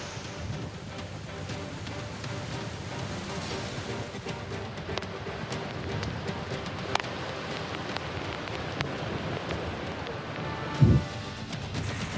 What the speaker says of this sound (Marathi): कराड, पाटण या भागामध्ये वादळी वाऱ्यासह मुसळधार पाऊस झाला